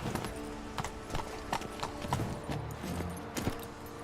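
Hoofbeats of Roach, the horse in the Witcher 3 video game, clopping in a steady rhythm, close and clear, with occasional louder hoof strikes over a faint background hum.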